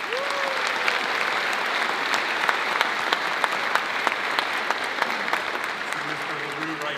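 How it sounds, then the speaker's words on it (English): A school audience applauds a marching band on opening day, steady dense clapping for the whole stretch with a few sharper claps standing out. "can we get just a round of applause for our marching band"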